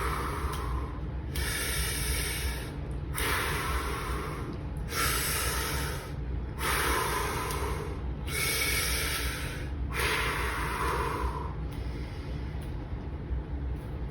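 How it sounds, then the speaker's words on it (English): Slow, deliberate breathing during a ballet port de bras exercise, with about six long, airy inhales and exhales alternating evenly across the stretch, close and clear against a steady low background hum. "Breathe in. And then we do it all again. Breathe out."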